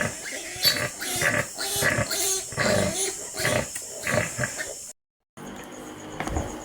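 A dog growls low and rough in sustained rumbling bursts, close by on a backyard pig farm, with a short silent gap near the end before the growling resumes.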